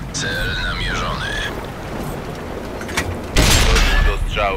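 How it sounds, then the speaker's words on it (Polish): A heavy tank cannon blast from an AMX CDC in World of Tanks erupts late in the clip over a busy, noisy game soundscape with rumbling engines and voices. "Doszło do strzału."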